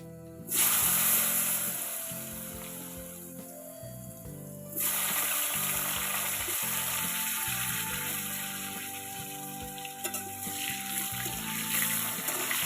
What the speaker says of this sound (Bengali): বাকি তেলেতে আমি প্রথমে আলুগুলো ভেজে নেব